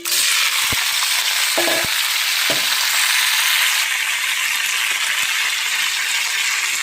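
Cleaned nalleru stalks fry in hot oil, producing a loud, dense, continuous sizzle broken by a few brief metallic clinks near the start, with no talking.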